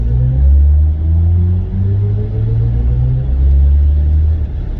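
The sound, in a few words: BMW i4 M50 electric car accelerating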